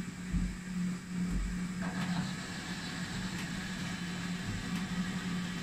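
A mini Holzmann lathe, driven by a windshield wiper motor, turns metal at a 1 mm feed. It gives a steady, close mechanical hum with a low drone and faint grinding, and a few soft knocks early on.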